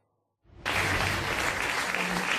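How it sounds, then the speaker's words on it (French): Following a moment of near silence, applause and the clicking of press cameras burst in abruptly for French politician Alain Juppé's arrival, a dense, loud wash of clapping that holds steady to the end. "Alain Juppé arrive sous les applaudissements et les crépitements des appareils photo"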